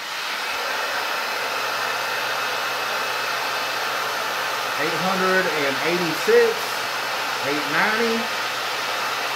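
A hair dryer blows on its high heat setting, powered by a TYCORUN 1000W inverter. It makes a steady, loud, broadband whoosh throughout, with a voice counting numbers over it.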